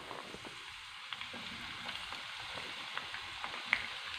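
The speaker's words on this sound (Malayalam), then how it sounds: "ഇനി ഫ്ലെയിം ഒന്ന് മീഡിയത്തിലിട്ടിട്ട് നമുക്ക് സവാള ഫ്രൈ ചെയ്തെടുക്കാം." Onions fry in hot oil over a medium flame, giving a steady close sizzle dotted with small, irregular pops and crackles, with no voices.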